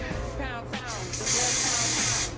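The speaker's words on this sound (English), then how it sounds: "spray a little bit on it like that" A short hissing spray from a hair spray can onto a closure wig, steady for about a second, following some low background noise and handling.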